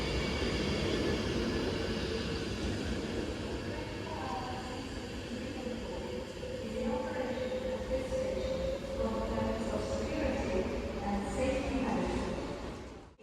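A Class 390 electric train, unit 390-013, departs a Stoke-on-Trent station platform toward London Euston with a loud, sustained rumble and whine that holds steady before fading at the end.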